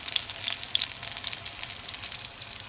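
Salmon burgers fry in a pan, giving a steady, moderately loud sizzle with fine crackling pops throughout, with no voices.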